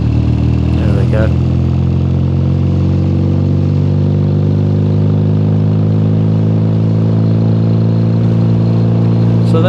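Triumph motorcycles, a TR6 Trophy and Bonnevilles, idle and pull away with a steady, loud engine rumble that holds throughout, with a brief louder burst near the start.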